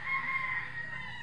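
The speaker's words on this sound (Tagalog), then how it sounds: "Uy, manok pa." A rooster crows somewhere close on a Philippine home property, one sustained crow carrying steadily through the short moment with no talking over it.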